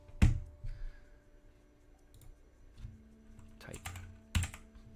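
Someone types on a computer keyboard nearby in short irregular bursts of clicks and taps, fairly quiet, with pauses between the bursts.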